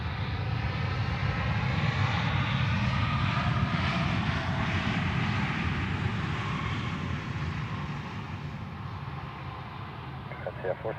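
Airliner landing at Zurich Airport, a loud, close jet engine roar with broadband rumble that slowly shifts in pitch as it passes, then eases slightly, with faint radio chatter.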